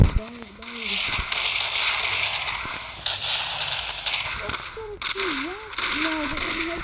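Silenced pistol shots in the shooter game Special Forces Group 2 come as a few sharp, muffled cracks scattered through steady game noise, with people talking over them.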